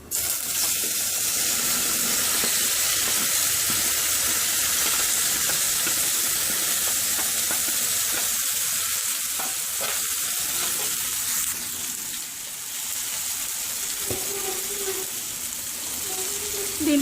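Boiled green banana tossed into hot oil in a pan for an Andhra-style banana fry, a steady loud sizzle running throughout with occasional scraping stirs, fairly close and with no talking.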